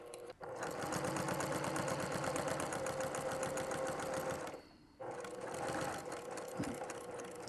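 A sewing machine stitching a fur and flannel throw runs in a steady, close, loud whir, pausing briefly near the end before starting up again.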